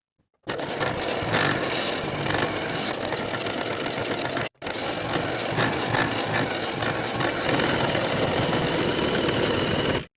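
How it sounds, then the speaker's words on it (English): A sewing machine stitches a collar onto the neckline of a jersey garment, a steady, continuous motor whir running almost unbroken for about ten seconds with one brief pause partway through. "Sew the collar to the neckline with a 5/8 inch seam allowance."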